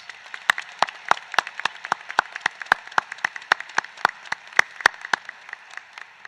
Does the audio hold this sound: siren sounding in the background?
no